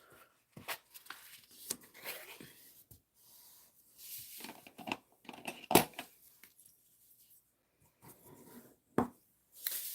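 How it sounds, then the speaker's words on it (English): A paper card base is folded and burnished by hand during card making, giving scattered soft scrapes, creases and rubbing taps, with one sharper crackle near the middle and quiet gaps between strokes. "let me fold and burnish this card base"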